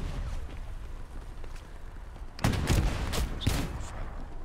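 A rifle shot fired at an enemy tank in the World War II shooter Hell Let Loose, with a few sharp loud cracks and their echoes arriving close together over a rumbling battlefield background.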